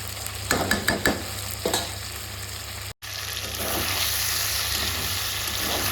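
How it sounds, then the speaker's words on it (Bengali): Fish pieces fried in hot oil with spices and stirred in a pan, with a few sharp scraping stirs at first and then a loud, steady sizzle that fills the rest, with no voices. "এইভাবে একটু সময় মাছটাকে কষিয়ে নেব তেলের মধ্যে মশলার সঙ্গে"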